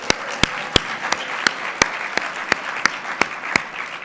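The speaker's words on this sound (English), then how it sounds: "Round of applause for our teachers." A conference audience applauds teachers with a steady wash of many hands clapping at close range, a few sharp individual claps standing out in a regular rhythm, no talk over it.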